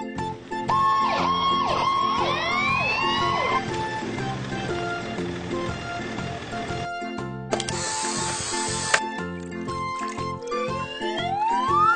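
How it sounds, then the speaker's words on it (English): A red fire truck's siren wails in rising and falling sweeps during the opening seconds, layered over a bright, busy children's song with steady music throughout. "Red color fire truck."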